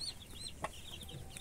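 A turkey hen with her brood of mixed chicks on a farm gives soft, quiet clucks and peeps, several short calls over a faint outdoor background.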